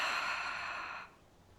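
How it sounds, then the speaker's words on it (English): A long, audible exhale ends a yoga routine, a breathy rush of air that holds steady for about a second before cutting off, close and alone with no talk over it. "finish with a deep breath in and an audible breath out"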